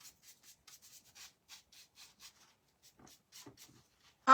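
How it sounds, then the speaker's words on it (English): A tool is scraped very lightly over an edge during an Easter transfer craft, giving a run of soft, short rubbing strokes in a quiet room, ending with one louder scrape. "I'm just barely going over the edge. Hardly, just kind of scraping it on,"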